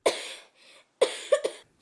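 A person coughs in several harsh, close bursts: one cough, a brief pause, then a quick cluster of two or three more, with no talking.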